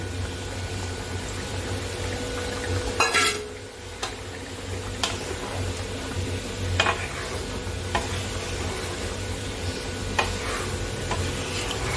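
Fish egg curry with potato and pointed gourd simmering in a pot, giving a steady low bubbling under a soft sizzle, with a few scattered clinks and knocks of a utensil.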